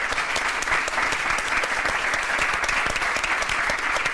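Sustained, dense audience applause fills the hall at the close of a literature and journalism talk, steady and loud throughout with no pauses.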